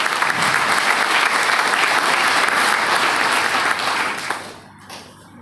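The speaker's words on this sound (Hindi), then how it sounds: "इसके लिए जोरदार ताली" Loud, dense applause from a large crowd claps steadily, then thins and fades out near the end.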